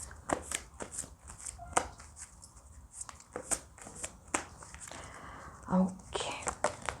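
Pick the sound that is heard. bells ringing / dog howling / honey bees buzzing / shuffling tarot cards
shuffling tarot cards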